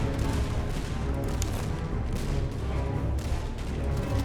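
Massed musket volleys and booming canister artillery fire from a Master of Command battle, a dense, continuous barrage of overlapping shots with no clear gaps.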